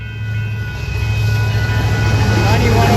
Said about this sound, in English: And we got a train.